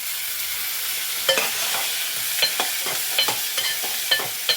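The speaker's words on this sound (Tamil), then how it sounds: "தக்காளி சேர்த்து நல்லா வதங்கட்டும்" Tomatoes and onions sauté in oil in a pan for drumstick sambar, a loud continuous sizzle broken by sharp spatula scrapes and taps at irregular intervals.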